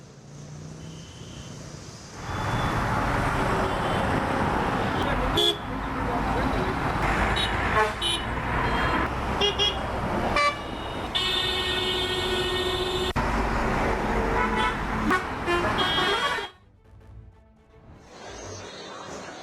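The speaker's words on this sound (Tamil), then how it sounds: "ஜிஎஸ்டி சாலையில் ஆமை வேகத்தில் வாகனங்கள் ஊர்ந்து சென்றன." Heavy road traffic on GST Road in Chennai, with engines rumbling in a congested crawl and car horns tooting repeatedly under a news reader's voice, before the street noise cuts away near the end.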